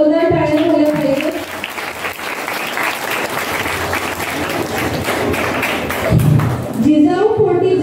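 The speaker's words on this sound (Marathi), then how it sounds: "खुशीसाठी पुन्हा जोरदार टाळ्या झाल्या पाहिजे" Loud applause from a crowd at a Shivaji Maharaj Jayanti celebration, a thick, sustained wash of clapping that starts and ends with voices or music heard briefly over it.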